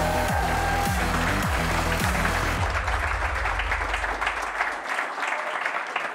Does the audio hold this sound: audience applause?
yes